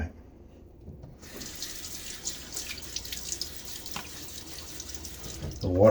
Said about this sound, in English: The water on the face before applying the lather.